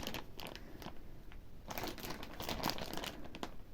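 A plastic bag of alpaca yarn crinkles and rustles in irregular bursts, close up, with no talking.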